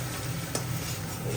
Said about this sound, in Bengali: দেখো রসিয়ে কষিয়ে রান্না করছে চিকেন